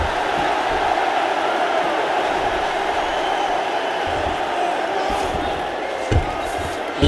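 A large UFC arena crowd roars in a loud, sustained wall of noise after a strike from the bottom fighter, with a few sharper thumps near the end.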